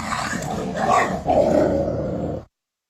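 Dogs growl while fighting, a continuous close rumbling snarl with rising and falling intensity that cuts off abruptly after about two and a half seconds.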